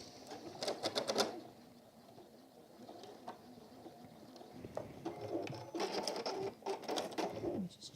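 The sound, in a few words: sewing machine stitching an apron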